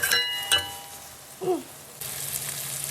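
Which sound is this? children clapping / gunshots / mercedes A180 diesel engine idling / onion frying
onion frying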